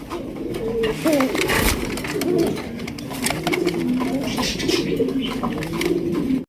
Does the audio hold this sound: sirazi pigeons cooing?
yes